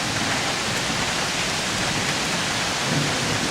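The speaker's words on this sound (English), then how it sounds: "it's really starting to come down. It's a real torrential downpour." Torrential rain pours down in a heavy downpour over a suburban area, a dense, constant roar of hiss and splatter with no letup and no voices.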